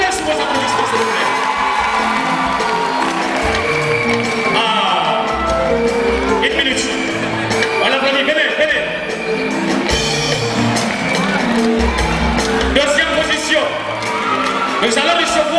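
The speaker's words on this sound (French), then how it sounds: "Madame Soulvax, Madame Kanté, sous vos applaudissements, s'il vous plaît" An audience at a dedication ceremony in Conakry cheers and shouts loudly: a dense, steady crowd roar with whoops and children's shouts, with voices mixed in throughout.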